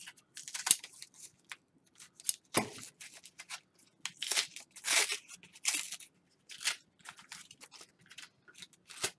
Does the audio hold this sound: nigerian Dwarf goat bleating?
no